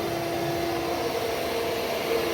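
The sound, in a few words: vacuum sucking hay out of a machine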